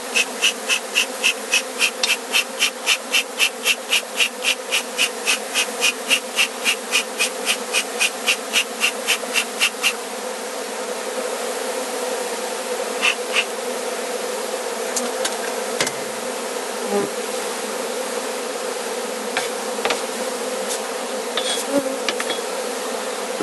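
A honey bee swarm hums steadily while being hived into a new box, with a dense continuous drone and a run of rhythmic brushing or tapping strokes during the first ten seconds, no voices.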